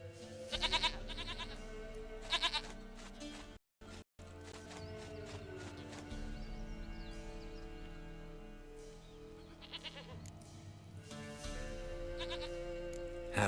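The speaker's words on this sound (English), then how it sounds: "Goat of mine, dearest," Goat bleating in The Witcher 3: Wild Hunt, several short nasal bleats near the start and again around the middle, over a steady low game ambience with a brief dropout.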